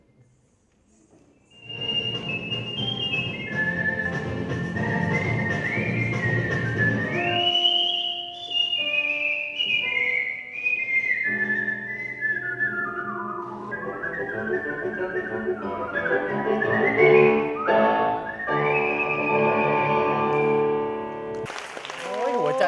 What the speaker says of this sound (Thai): บางคนผิวปากแบบอะคาเปล่า สดๆเลยนะครับไปลองฟังเสียงกัน